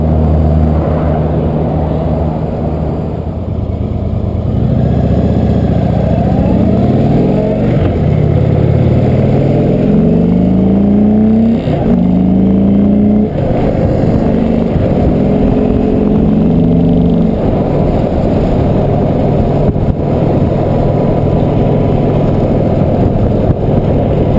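An Indian Chieftain motorcycle cruises on the open road, its steady engine drone and low rumble loud and continuous from an on-board position, with wind noise and gear-shift swells rising and falling throughout.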